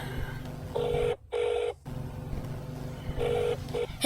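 A telephone being dialed to place a call, heard as a few short keypad tones in separate bursts over a constant background hum. No one speaks.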